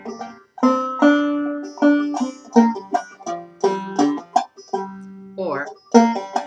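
Clawhammer banjo plays a slow phrase of plucked notes with pull-offs and hammer-ons, close and clear, each note ringing briefly in an uneven picking rhythm.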